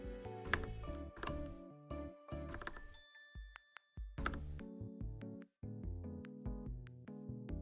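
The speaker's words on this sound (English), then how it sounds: "let me know if the keyboard is too loud" Computer keyboard clatter during a Power Wash Simulator stream: bursts of quick, close key taps in uneven clusters with short gaps, and a few tonal game sounds mixed in.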